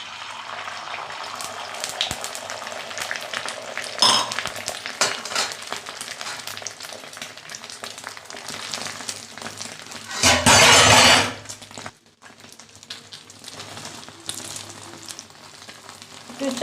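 Beaten egg poured into a hot pan for an egg roll, a steady frying sizzle that surges into a loud hiss about two-thirds through, then settles back.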